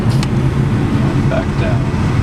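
A small Daihatsu Gino car under full throttle, a loud steady low engine drone with road and cabin noise from inside the car, while a voice talks over it.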